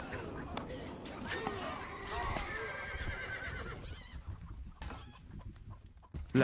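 A horse whinnies in the strategy game Stronghold Crusader HD, its high rising call standing out over busy game sound effects and spoken unit voice lines, with other animal and battle noises mixed underneath.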